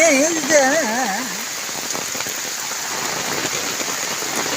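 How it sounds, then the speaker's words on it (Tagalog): Heavy rain falls on a farm plot in a loud, steady, close wash of drumming drops. A brief wavering, whistle-like tone sounds over the downpour at the start. "super ulan"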